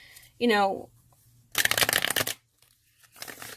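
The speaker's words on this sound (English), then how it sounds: "riffle shuffle them with no problem" A brief voice sounds, then a well-worn deck of cards is riffle shuffled in a crisp, fluttering burst, followed by a shorter, quieter riffle near the end.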